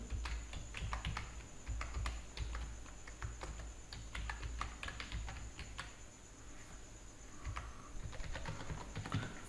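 Rapid, steady typing on a computer keyboard as a home address is entered into an online first-year college admission form, close and continuous with dense irregular key clicks and no voices.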